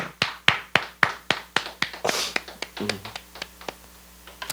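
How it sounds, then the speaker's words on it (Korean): A church congregation claps in thanks during a Wednesday worship service, a steady run of sharp, fairly close hand claps in loose rhythm, with a brief voice partway through. "우리 하나님 감사의 박수 드리겠습니다"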